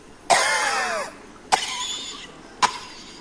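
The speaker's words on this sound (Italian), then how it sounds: "Tosse." Three separate coughs, near and fairly loud, each a sharp raspy burst that trails off, with short pauses between them in an otherwise quiet room.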